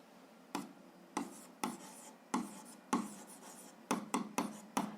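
A pen writing answers for a 7th-grade algebra exercise on paper, heard as a run of about nine short scratchy strokes in quick succession, close and fairly quiet, with no talk.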